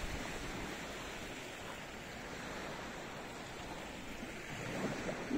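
Sea waves roll onto the shore during a cold winter seaside walk, a steady, soft wash of surf mixed with wind rumble and no voices.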